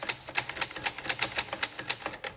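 Keys strike on a 1957 Voss typewriter in a quick, fairly even run of crisp, close metallic clacks, about five per second, with no voices.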